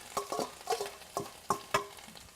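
Salsa vegetables stirred in a pan with a little oil: soft scraping strokes and light sizzling come in about seven short bursts, fairly quiet and close, with no talking.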